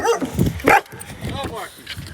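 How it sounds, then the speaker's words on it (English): A dog barks a few times indoors in a home, with one sharp, loud bark standing out among shorter yips, mixed in with a person talking close by. "No barking."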